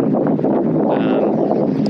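Steady wind buffeting the microphone in a constant rushing roar, loud and close, with a faint hiss drifting over it.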